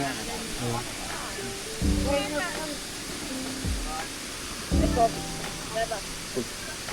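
The Tad Kaew Mongkol waterfall near Luang Prabang gives off a steady, broad rush of falling water, with several people chatting over it at moderate distance.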